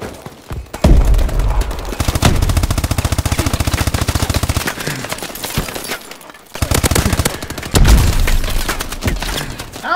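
Call of Duty gameplay gunfire: long, loud automatic bursts with rapid repeating shots, a brief lull midway, then another heavy burst, close and dominant with no talk.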